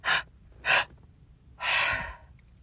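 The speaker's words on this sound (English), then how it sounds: "the last breath is breathing everything out and kind of concaving in" Two short, sharp breaths followed by a longer, deep meditative exhale, close and clear with no talking.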